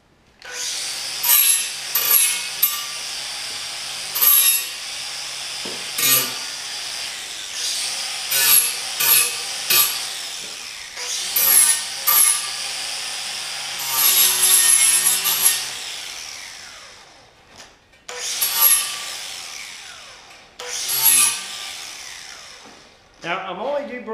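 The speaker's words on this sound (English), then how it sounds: "First thing I'm going to do is deburr the edges for layout using cordless grinders" Cordless grinders deburring the edges of metal stock in a shop while building a railing-mounted umbrella stand, loud rasping bursts of a few seconds each, repeated with short pauses between them.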